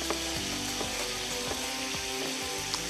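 Carrots and onions sizzling in a pan on a lowered stovetop flame, a steady loud frying hiss with occasional clinks and scrapes of a utensil stirring.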